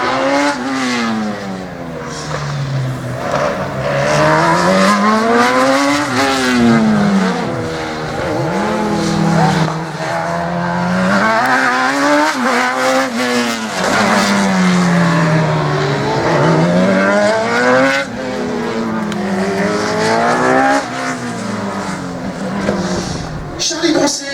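A rally car charges through a slalom course at an event in Ancenis, its engine revving hard in rising and falling sweeps with tire squeal, loud and close, while an announcer speaks over it.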